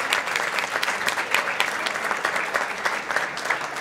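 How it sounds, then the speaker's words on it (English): Audience applause at the KICEA conference as the chairman is introduced, a steady dense clapping that stays loud and even for the full length with no voices over it. "Please give him a big round of applause."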